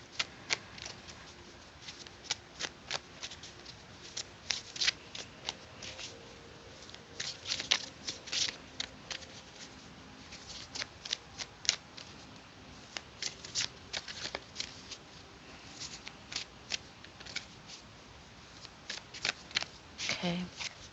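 Tarot cards shuffled by hand, quick papery riffles and slaps recurring in bursts over about twenty seconds, close and fairly quiet, with a voice speaking at times.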